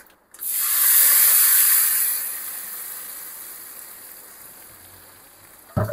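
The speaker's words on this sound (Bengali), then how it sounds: "ফোড়নটা ভাজা হয়ে গেছে, এবারে এটাকে আমি শুক্তোর মধ্যে ঢেলে দেব" Hot fried mustard seeds and five-spice tempering are poured into shukto and hiss in a sharp burst that slowly fades to a steady low sizzle, with a brief clunk at the end.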